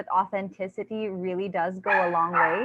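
A pet dog barks and yips in short bursts close by, mixed in with steady conversational speech from someone talking throughout.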